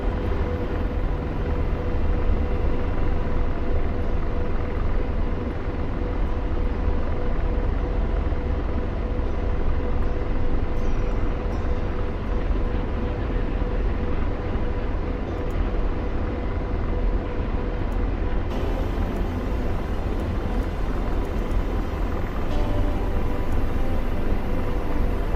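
Helicopter flying in a Syria war server video game, a constant loud rotor and turbine drone with a steady hum that holds unchanged throughout, no voices.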